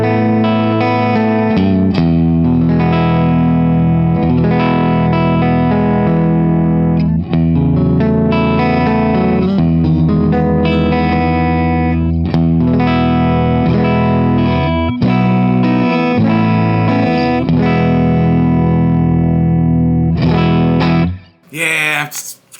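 Budget Fojil RG-style electric guitar played through heavy distortion on its middle and neck pickups, a thick, somewhat muddy run of chords and riffs lasting over twenty seconds, loud and alone before cutting off abruptly.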